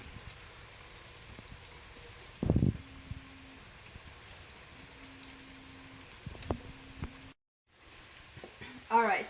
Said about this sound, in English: So I'm going to add my basmati rice, which I soaked for about an hour